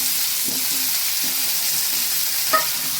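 Curry leaves, garlic and shallots fry in hot oil in a pan for a Tamil curry-leaf kuzhambu, giving a steady close sizzle with a few soft stirring scrapes and one brief clink near the end.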